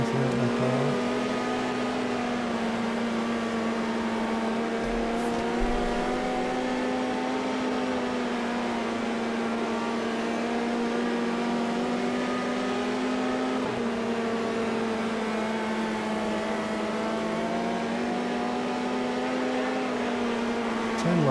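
Race car engines droning steadily throughout a World of Outlaws 24 video game race, a continuous loud hum with shifting tones and faint talk.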